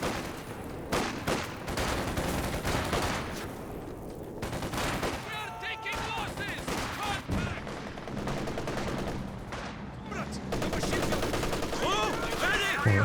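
MG34 machine gun fire and other battle noise in Company of Heroes 2, bursts of rapid shots and scattered gunfire over several seconds, mixed with game effects and some talking.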